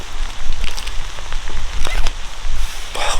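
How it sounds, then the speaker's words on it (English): Rain falls on an Iron Age hill fort in Cornwall, a close, uneven patter of drops with gusty bursts and occasional sharper taps, loud near the microphone. "Really? Do you have to rain?"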